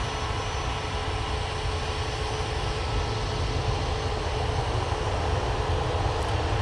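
Ryanair Boeing 737 MAX 8 landing at Manchester Airport, a dense, steady jet roar with broad rushing noise and a faint whine, constant and loud for the whole stretch.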